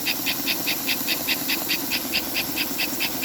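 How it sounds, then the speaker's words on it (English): Motor of an Atlantic 21100 model steam locomotive running on DC, a steady high whine and hiss with a rapid, regular chuffing pulse repeating evenly throughout, close and fairly loud. "Listen to the pitch of the motor."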